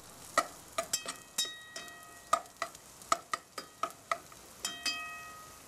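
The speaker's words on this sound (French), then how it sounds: "Donc on verse nos échalotes. Voilà, donc on remue bien," A spoon clacking against a frying pan while shallots sweat in it. About fifteen sharp, close knocks fall in an uneven rhythm over a faint sizzle.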